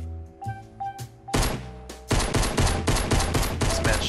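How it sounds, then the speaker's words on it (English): Pistol fire in a Fortnite match: a few spaced single shots at first, then dense rapid gunfire filling the rest of the clip, loud and close with no talk. "shooting at him with the pistol."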